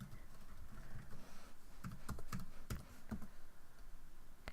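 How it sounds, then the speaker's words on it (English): Keystrokes on a computer keyboard while entering a localhost address into a web browser, a few crisp clicks in a loose, uneven burst, close and fairly quiet, with no talking. "So we will type in localhost"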